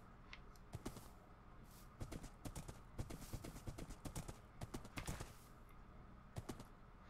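Horse hooves clip-clop in quick uneven bursts as a horse is ridden across the land in Minecraft, crisp and fairly close, with no voices over them.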